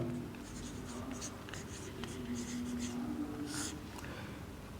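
A formula is written out by hand on a board, giving a series of short scratchy strokes and taps, close and moderately loud over a faint steady hum and a little breathing.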